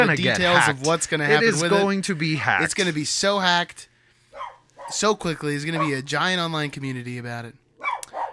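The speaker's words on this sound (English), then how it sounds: "That's my dog who's losing it." A pet dog named Meryl barks and yaps indoors during a podcast recording, the barks mostly buried under continuous conversation and standing out only as brief sharp bursts.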